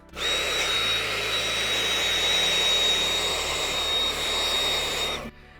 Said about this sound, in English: So I think we're just gonna do a quick vacuum and then clean off the annoying paste.